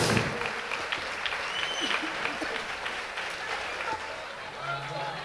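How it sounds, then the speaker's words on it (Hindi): Audience applause for musicians at a live stage event, a sustained, fairly loud wash of clapping with some crowd noise and a voice over it. "म्यूजिशियंस के लिए जोरदार तालियां हो जाए"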